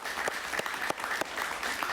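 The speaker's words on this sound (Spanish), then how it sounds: "Un aplauso para Eliezer Ávila," Audience applause for a guest arriving on a Miami evening talk show, steady clapping from a studio crowd filling the whole short stretch at moderate level.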